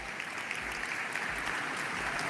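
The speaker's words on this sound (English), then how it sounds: "give him a round of applause" Audience applause at a tarot reading gathering, a short, dense burst of steady clapping from a crowd that fills the whole moment without any speech.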